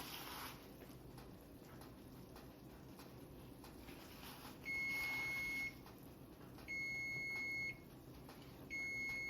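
A kitchen oven timer beeps in three evenly spaced bursts of steady, shrill tone, faint against a quiet room hiss while a tuna casserole bakes.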